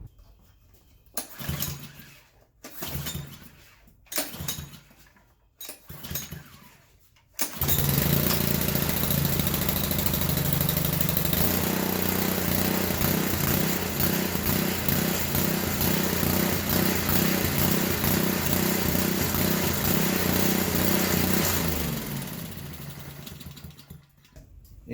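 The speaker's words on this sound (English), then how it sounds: "Let's just make sure that this engine's even still good." A pressure washer's gasoline engine coughs through several short pulls and sputters, then catches and runs loud and steady close by for about fifteen seconds with a throbbing idle, before shutting down and fading away.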